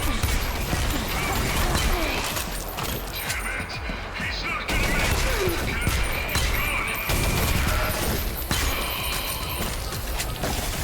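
Gunfire in the retro shooter Selaco, built on GZDoom, comes as dense, continuous mechanical bursts and clatter. It stays loud and steady for about eleven seconds, with brief gaps, and no speech is heard.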